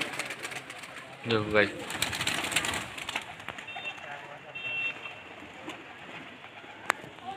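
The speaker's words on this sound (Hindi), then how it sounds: "ये उड़ रहे हैं कबूतर" Soft pigeon coos near the start, with a voice talking briefly and general outdoor background noise continuing afterward.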